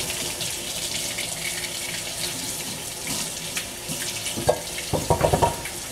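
Potatoes being washed under a running kitchen tap: a steady hiss of flowing water into a sink, with splashing and knocking toward the end as the potatoes are handled.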